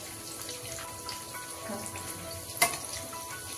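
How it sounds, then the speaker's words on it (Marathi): Vada pav vadas deep-fry in oil with a soft, continuous bubbling crackle, faint and close, broken by one sharp clink partway through. "मस्त तळतायत बघा आता आपले वडे."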